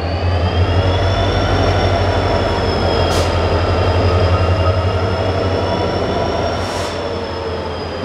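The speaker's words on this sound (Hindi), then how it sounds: "यही लोकोमोटिव अब जा रहा है आगे की ओर ताकि हमारी ट्रेन में वापस कनेक्ट हो सके।" A train locomotive moves at Guntakal Junction station with a continuous loud rumble and a sustained mechanical whine, broken by two brief hissing bursts.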